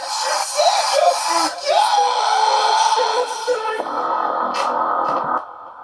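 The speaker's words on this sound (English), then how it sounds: "So you've got the little fried" A recorded vocal fried scream played back during a home vocal recording session, a raspy, gritty screamed phrase lasting several seconds with shifting pitch, loud and up front over a backing track.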